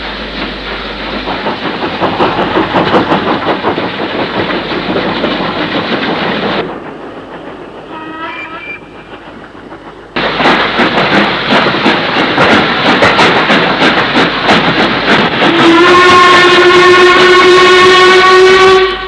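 A train rumbles past up close with rhythmic clattering wheels, dropping away briefly before a louder stretch and a rising tonal whine near the end.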